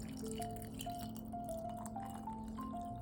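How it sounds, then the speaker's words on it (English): Water poured steadily into a container of spring onions, a soft continuous splashing trickle with a faintly rising tone as it fills, quiet and close, with no talking. "let's top them up with some water"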